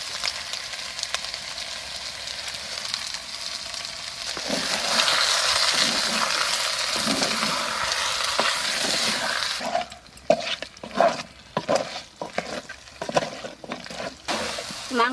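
Chicken curry meat fries and sizzles in a pan on a village cooking fire, with steady hissing and then a run of scraping stir strokes, close and moderately loud.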